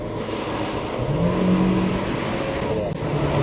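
A Saab Phoenix pulls away with its engine rising steadily in pitch as it accelerates, heard close from inside or beside the car over a broad road and wind roar.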